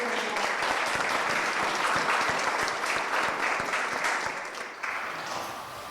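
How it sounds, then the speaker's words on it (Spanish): Audience at a university book presentation giving sustained applause, a dense, steady wash of many hands clapping at fairly close range, with a brief dip near the end. "nos puedan acompañar con un fuerte aplauso para Katia"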